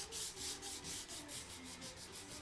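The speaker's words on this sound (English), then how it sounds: "all I had left to do was a little bit of sanding on the handle." Sanding a wooden handle on a hand-forged gardening tool made from scrap metal: steady rhythmic back-and-forth rubbing strokes, close and fairly quiet, with no talking.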